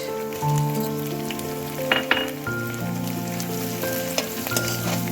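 Coarsely crushed ginger and garlic sizzle steadily in about four spoons of hot oil, close and continuous, with occasional clinks of a spoon against the pan.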